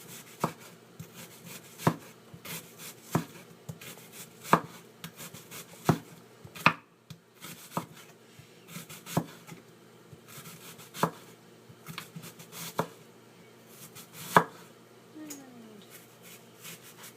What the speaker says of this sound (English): you're going to slice into half moons